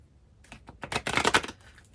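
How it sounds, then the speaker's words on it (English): A deck of tarot cards being shuffled, a quiet riffle that builds into a short burst of crisp, fluttering card slaps and then fades, close up with no talking. "Let's go ahead and shuffle."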